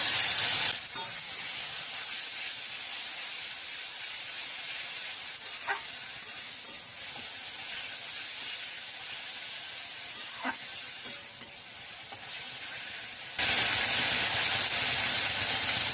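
Tomato puree hitting a hot frying pan with garlic: a steady, bright sizzle and hiss runs continuously, with a couple of faint clicks from stirring, loud and close with no voices.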